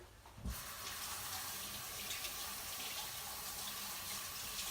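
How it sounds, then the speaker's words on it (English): Tap water runs steadily into a kitchen sink, a continuous hiss of splashing that starts abruptly after a brief pause and stays close and even while a finger is rinsed during casserole prep. "Let me rinse my finger."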